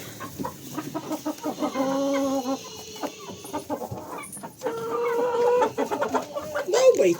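Chickens cluck near and loud in a farmyard, with bursts of short calls and a few drawn-out squawks, and some voices faintly underneath.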